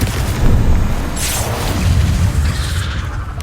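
Confringo blasting spell exploding in Hogwarts Legacy on PS5: a loud booming burst with a sharp crackling flare, then a rumbling decay over continuous game noise.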